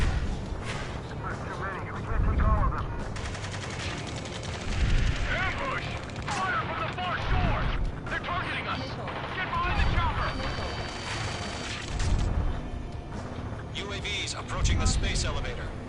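In the video game Ace Combat 7, gunfire and explosions rattle through an ambush in repeated bursts and booms, mixed under urgent radio voices shouting commands.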